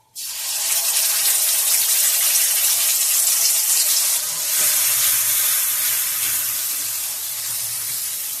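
Spice paste of ground spices mixed with water hits a hot pan for a bottle gourd stem curry with potato and eggplant, bursting into a loud, bright, sustained sizzle that continues steadily and eases only slightly.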